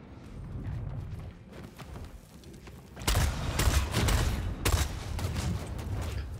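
Shotgun blasts in the vampire battle royale game Vampire: The Masquerade – Bloodhunt, with heavy booming shots clustered in the second half over a rumbling game background.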